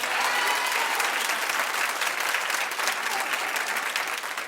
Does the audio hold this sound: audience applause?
yes